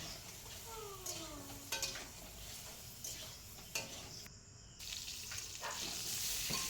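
Quiet, steady sizzle of pointed gourd frying in oil with salt and turmeric, with occasional soft taps of a spatula on the pan.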